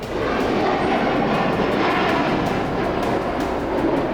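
US fighter jets fly over the Sea of Japan, a loud continuous broadband engine roar that stays steady throughout without talking.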